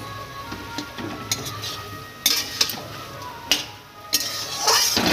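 Vegetables are stirred in a cooking pot with a utensil amid a low sizzle, with a few clinks and scrapes against the pot over a steady background, no talk.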